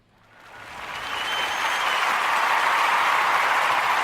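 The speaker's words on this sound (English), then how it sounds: "can I get a round of applause as a reset?" An audience breaks into applause, building from a few claps to a full, sustained roar of clapping within the first second and a half, then holding steady without any voices on top.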